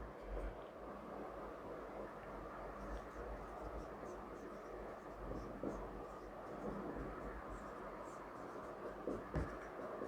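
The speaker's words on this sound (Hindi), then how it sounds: "एक क्वेश्चन मैं लिख रहा हूँ यहाँ पर।" A question is written on a classroom board during an algebra lesson: faint, intermittent scratching strokes over a low, steady room hum, quiet overall.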